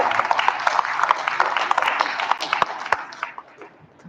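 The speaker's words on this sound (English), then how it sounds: "I think a round of applause for our students for the fantastic job they did" Applause from a graduation crowd honoring DARE program students, a dense, steady wash of many hands clapping at moderate distance that thins and fades out toward the end.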